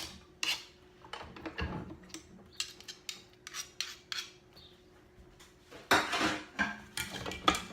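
Metal sheet pan lined for cookies, handled on a kitchen counter: scattered clattering knocks and scrapes, with a louder run of rattling contact near the end, close and fairly quiet.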